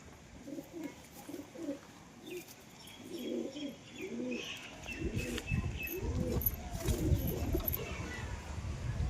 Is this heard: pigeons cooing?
yes